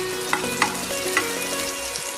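Onions fry and sizzle in a pan, a steady hiss of hot oil broken by a few sharp clicks and scrapes from stirring, close and alone with no voices.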